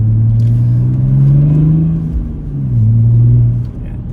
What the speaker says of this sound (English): it picks up nice that. With only light throttle as well.